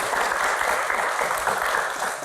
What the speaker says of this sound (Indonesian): tepuk tangan dong buat Mas Adi